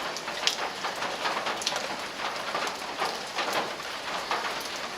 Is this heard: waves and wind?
no